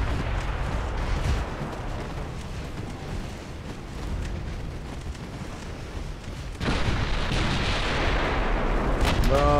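Warship turret guns firing in a naval battle game, a steady rumbling bombardment of heavy gunfire that swells louder partway through, with no talking.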